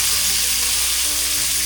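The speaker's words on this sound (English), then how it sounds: "We got some butter here that's just starting to brown. We're gonna make us a little side dish of fried apples." Apples fry in browning butter in a pan, giving a loud, close, continuous sizzle with a crackling hiss throughout.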